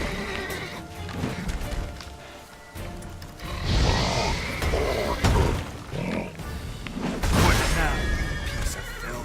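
Roach the horse in Witcher 3 neighing and whinnying loudly several times, with hoof clip-clops and other game sounds mixed in.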